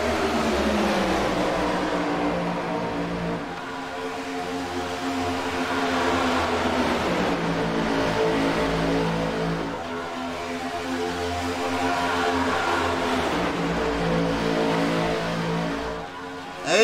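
Race cars roar past at New Atlanta during a BRR Cup race, engines rising and falling in repeated waves of revving as the pack circulates, loud and continuous with no break.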